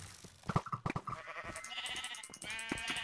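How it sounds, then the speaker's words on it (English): Blocky Minecraft sheep bleat in quick wavering calls during a multiplayer minigame, mixed with clattering game effects and a rising musical tone, fairly faint. "you can kill the sheep"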